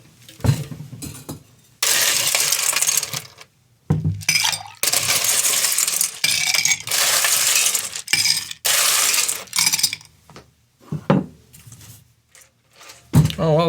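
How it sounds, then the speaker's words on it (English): Ice cubes dropping and clinking into a glass in several bursts, with loud rattling clatter between short pauses, close up and without talk. "ice up our glass"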